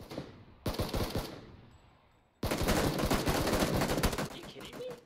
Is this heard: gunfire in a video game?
yes